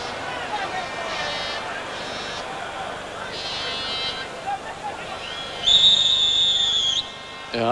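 A referee blows a sustained whistle blast during the 1989 World Cup qualifier between Germany and Wales, shrill over steady stadium crowd noise and a commentator's voice.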